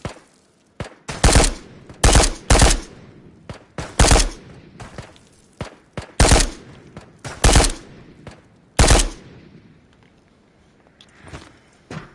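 Enemy gunfire in the VR game Ghosts of Tabor rattles out in short, sharp automatic bursts, roughly a dozen loud volleys spaced irregularly with near silence between them.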